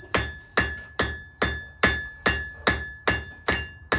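A blacksmith hammers hot iron into an S hook on an anvil at a living history farm, ten sharp ringing strikes in an even rhythm, close and loud, each with a brief metallic decay and no talk.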